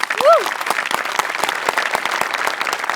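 Applause from a studio audience at a Marathi comedy sketch show, steady dense clapping held for the whole stretch, close and loud, with a short vocal whoop near the start.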